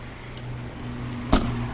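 A 2011 Volvo V50 2.0 D3 diesel with automatic gearbox idles quietly and steadily with a low, even hum, broken by one brief sharp knock near the end.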